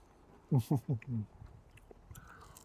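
Crunchy fried chicken wing skin, cooked on a Weber kettle barbecue, being bitten and chewed up close: four sharp, loud crunches in quick succession, followed by quieter chewing and faint mouth noises.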